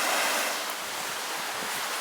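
A waterfall in a wilderness river, a steady broad rushing roar of falling water, even and continuous with no voices.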